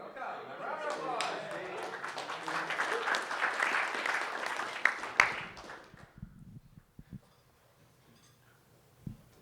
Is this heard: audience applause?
yes